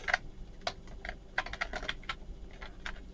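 Computer keyboard keys are pressed in quick irregular clicks to strafe and turn a game character, close-miked and steady, with no voices.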